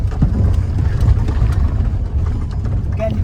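A car's engine runs steadily on a test drive, a low continuous rumble with road noise, heard from inside the cabin with no talk.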